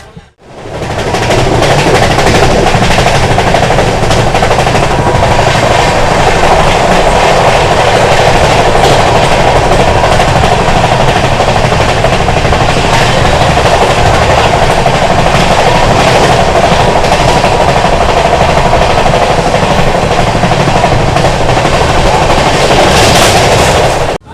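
A train rumbles steadily past up close in India, with continuous loud rolling noise and rattling wheels lasting the whole stretch.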